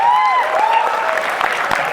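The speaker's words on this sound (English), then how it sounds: "And then I get applauded for surviving." Audience clapping at a Comic Con panel, a dense, sustained burst of applause filling the room, with a voice sounding over the top at the start.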